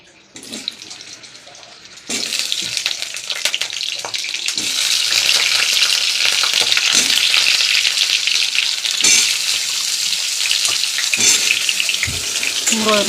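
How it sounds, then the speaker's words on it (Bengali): Potatoes drop into a pan of hot oil already tempered with bay leaf and cumin. A quieter start gives way to a sudden loud, sustained sizzling roar that stays close and even, with occasional clatter and no talk. "আলুগুলো ভেজে নেবো।"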